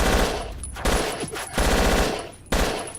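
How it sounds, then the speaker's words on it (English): Bursts of machine gun fire rattle out in Battlefield Yugoslavia, several loud sustained strings of rapid shots separated by brief pauses, with no talk over them. "who is our friend here shooting at with his epic machine gun?"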